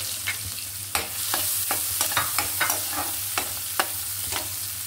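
Chopped onion frying in a pan, with a steady bright sizzle under repeated scraping and stirring strokes of a utensil, close and continuous with no talking.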